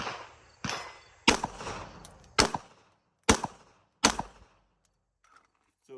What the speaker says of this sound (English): I'm gonna shoot this a couple different ways